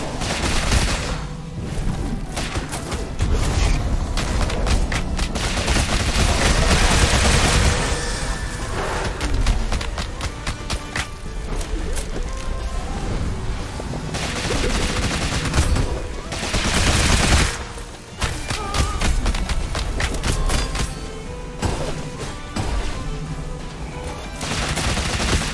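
Gunfire from Rogue Legacy 2 rattles in dense rapid bursts, loud and continuous with brief pauses, mixed with booms and game effects.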